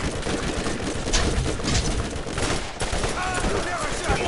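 Dense gunfire from a Borderlands firefight crackles without a break, a steady roar of rapid shots and bursts packed close together at full loudness.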